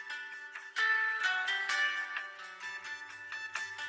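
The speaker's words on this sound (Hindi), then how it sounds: "अरे फोन बज रहा है।" A mobile phone ringtone plays a bright electronic melody, moderately loud and close, its notes repeating in a lively rhythmic pattern.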